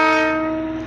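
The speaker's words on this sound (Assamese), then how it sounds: "ৰানিং হৈছে ট্ৰেইনখন।" The Darjeeling toy train sounds a loud, steady horn as it starts to run, a single sustained blast close by that fades slightly toward the end, with no talk.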